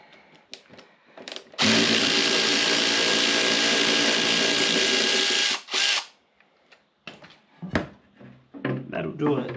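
A power tool whirs loudly and steadily for several seconds while bolts are removed from a Ford 4.0L engine, stopping and restarting briefly, followed by clinks of metal and quiet talk.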